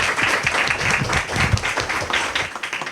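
An audience applauds after a panel talk, with steady, dense clapping that stays loud throughout and tapers slightly at the end.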